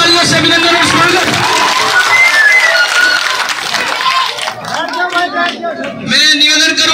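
Crowd at an outdoor village political rally clapping and murmuring, with a busy, sustained wash of applause and chatter throughout, dipping briefly before swelling again near the end.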